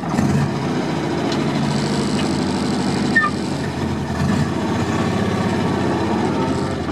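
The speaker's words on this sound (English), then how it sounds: "this is a 1963 544 Volvo from Upper Drive" A 1963 Volvo 544 car on the move, heard from inside as a steady, moderately loud low engine rumble that holds an even note throughout.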